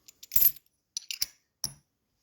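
Dollar coins dropped one at a time onto a budget OBEST fidget slider, giving a few sharp metallic clinks and short rattles spread over about two seconds, with quiet gaps between the drops.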